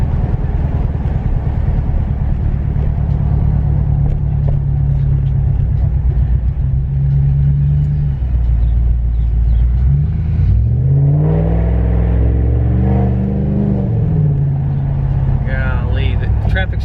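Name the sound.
Hemi 5.7L car loud exhaust while cruising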